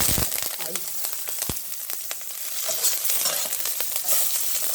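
Green chillies and curry leaves frying in hot oil, making a steady, close, crackling sizzle that runs throughout, with a few stirring scrapes and faint voices in the background.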